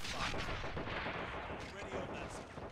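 An anti-tank gun fires in the A World At War mod of a strategy video game, heard as a rumbling, booming blast in a dense wash of battle noise lasting a few seconds.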